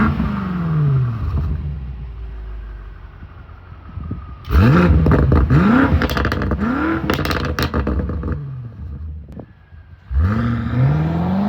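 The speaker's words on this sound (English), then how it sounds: "Here are some sound clips from the OEM M5 Competition exhaust." A stock OEM exhaust on a BMW M5 Competition, heard as loud engine revs that rise and fall: a rumbling idle, then a sharp burst of repeated revving, a quieter stretch, and another loud rev at the end.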